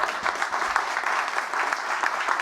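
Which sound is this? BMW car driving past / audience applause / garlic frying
audience applause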